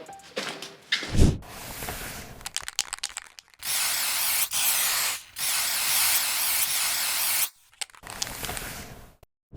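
A universal spray gun with a TE20 head and 1.4 nozzle hisses lacquer onto a car hood in several long, steady bursts, with short pauses, clicks and handling noises in between.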